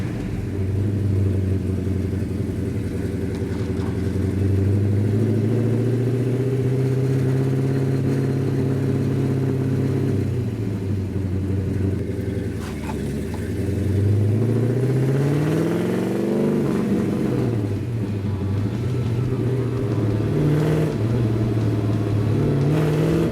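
A 1967 Hemi GTX convertible with 3.54 gears accelerates on a test drive. The loud engine climbs in revs, eases off and pulls hard again in repeated surges, close and continuous with no voices.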